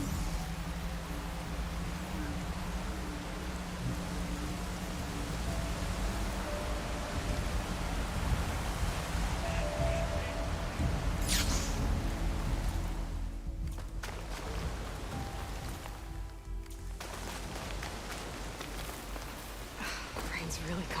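Steady rain pours down in Horizon Forbidden West, a dense continuous hiss under a low rumble, lasting throughout with brief dips in the wash and faint background tones.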